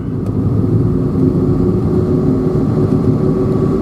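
A car climbs a mountain road toward a ski resort, its steady engine drone and road rumble loud and continuous, with no voices.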